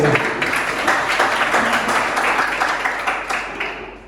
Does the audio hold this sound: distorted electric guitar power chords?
no